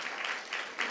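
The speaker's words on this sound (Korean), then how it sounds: "큰 박수 주시기 바랍니다" A church congregation at an all-generations worship service gives soft, sustained applause in gentle swells, somewhat distant and fairly quiet.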